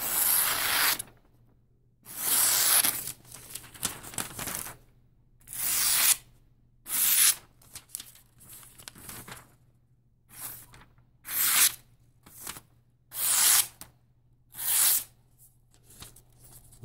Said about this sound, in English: Still cuts phone book paper pretty good.